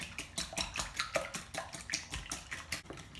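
Three eggs whisked in a bowl for a cake batter, a quick rhythmic clatter of the whisk against the bowl, close and fairly quiet.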